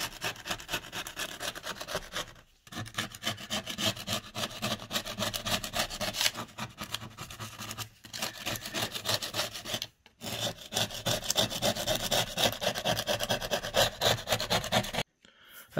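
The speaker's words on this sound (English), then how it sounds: "Kept using the scraper right here until I got to the layer of track" A scraper rasps plaster of Paris off N scale model railway track, in repeated close scraping strokes with a few short pauses between bursts, and no talking.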